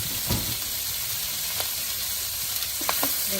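Onion dropped into a hot pan for ginisang pechay: a steady, close sizzle of frying with a few light clicks and stirring taps over it, continuous and without talk.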